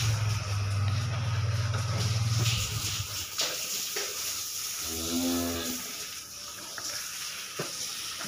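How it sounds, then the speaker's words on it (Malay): Six young beef cattle being raised for fattening in a farm pen, with a deep low moo early on and a second mid-range bellow midway, amid pen background noise. "ada 6 ekor sapi-sapi bakalan calon monster di kandangnya Sultan Mursyid"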